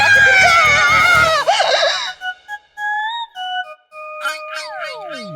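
A woman screams loudly and shrilly for about two seconds, close and piercing, then the sound breaks into wavering tones and falling whistle-like sweeps amid short pauses.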